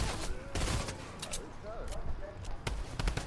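Video game gunfire crackles in repeated bursts and scattered shots, moderately loud, while a voice talks over part of it.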